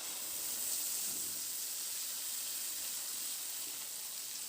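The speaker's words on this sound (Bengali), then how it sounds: "এবার যে পেস্টটা আমি তৈরি করে রেখেছি সেই পেস্টটা আমি তেলের মধ্যে দিয়ে দিলাম" Spice paste for Bengali kakrol bata frying in hot oil, a continuous even hissing sizzle throughout, moderately close, with no talk.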